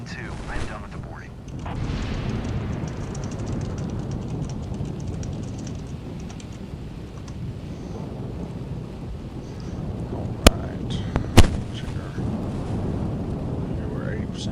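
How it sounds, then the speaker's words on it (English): A thunderstorm in Flight Simulator 2024 brings a steady low rumble of wind and rain around the parked airliner at Memphis, with a couple of sharp thunder cracks near the end. "Bad thunderstorm today."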